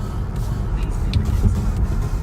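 Steady low road rumble of highway traffic merging from on-ramps, heard from inside a 2018 Cadillac, with passing vehicles swelling briefly and no talk over the continuous drone.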